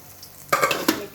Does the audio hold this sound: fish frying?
yes